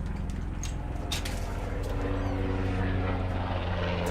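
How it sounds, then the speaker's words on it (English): A low-flying military helicopter passes overhead, its loud, steady rotor and engine roar close and continuous throughout. "That's a helicopter."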